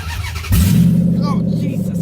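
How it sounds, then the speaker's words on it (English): A 2005 Dodge Magnum R/T engine with open exhaust manifolds roars to life and keeps revving hard, a harsh, rumbling open-exhaust drone that fills the clip, with voices faint underneath. "with open manifolds, Magnum is very, very loud"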